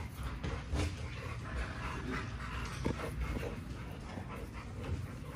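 An XL pitbull yips and whimpers in short bursts over a steady low rumble, with a few sharper barks mixed in.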